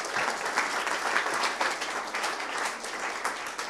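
Audience clapping at an AI startup pitch competition: sustained, fairly distant applause of even density that runs without a break and with no voice on top.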